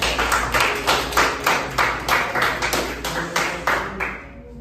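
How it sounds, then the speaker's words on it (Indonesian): A group claps in rhythmic unison during a university teaching workshop session, about a dozen regular pulsed claps in steady time, close and fairly loud, stopping near the end. "Tepuk tangan buat kita semua"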